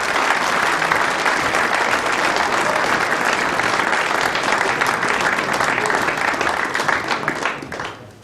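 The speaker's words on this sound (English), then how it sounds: "a big round of applause for your runner-up in this year's competition, Jason Twist." A large audience applauds steadily for several seconds at a pool championship final, dense clapping that stays loud before fading out at the end.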